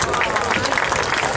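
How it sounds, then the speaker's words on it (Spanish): A crowd claps for the third-place cadet boys' handball team at a trophy ceremony, a loud, dense burst of applause with crowd murmur mixed in. "Un aplauso para ellos."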